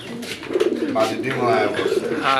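A pair of pigeons, a female and a male offered for sale as a matched pair, coo repeatedly at close range in soft rolling phrases, with people talking alongside.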